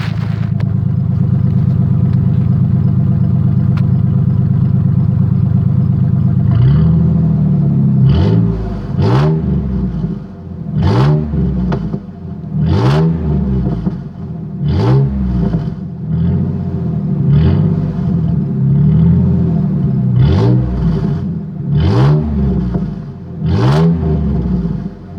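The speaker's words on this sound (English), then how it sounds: "Now we'll rev it up because it pops, kind of. It sounds really super ricey just because it's a V6" A 1998 Ford F-150 V6 growls through its exhaust tip, idling steadily before a run of about nine quick, punchy revs, each rising and falling back, loud and close with no talking.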